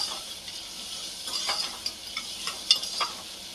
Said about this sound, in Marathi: आता त्याच्यामध्ये हा कांदा घालून घेऊया आणि या कांद्याला छान असा लालसर रंगाचा होईपर्यंत परतवून घेऊ